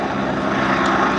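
A Westland Wasp helicopter with a 1050 shaft horsepower Rolls-Royce Nimbus turboshaft roars loudly and steadily at an air festival display, its engine and rotor noise filling the clip without pause.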